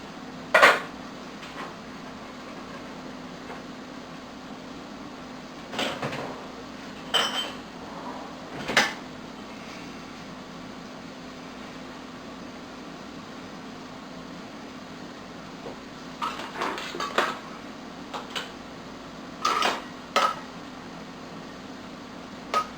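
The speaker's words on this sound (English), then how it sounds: "Our pickles are boiling. We're ready to fill our jars." Glass jars clink and knock against utensils in irregular bursts over a steady hum, as hot boiled bread and butter pickles are spooned and packed into them in a kitchen.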